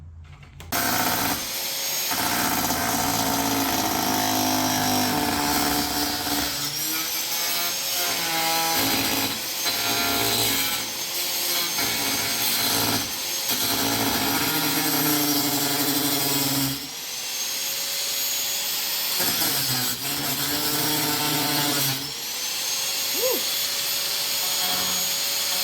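Power tool grinding and cutting metal to clear space between the engine and radiator on an LS-swapped Infiniti G35, a loud continuous rasping whine with brief pauses and pitch shifts over about 25 seconds.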